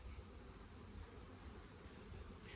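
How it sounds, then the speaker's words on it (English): A continuous, even buzzing of bees around full beehives in a video game, like a swarm, filling the space at a low, steady level with no pauses. "They're all absolutely full of bees, all absolutely full of hive."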